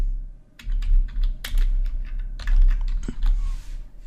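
Typing on a computer keyboard to enter a short name: quick, close clicky keystrokes in irregular bursts with brief pauses, no voices.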